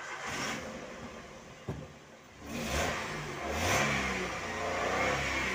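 A car engine with a leaking exhaust silencer revs up in two or three rising bursts, close and fairly loud, with a short sharp knock between them and no talking.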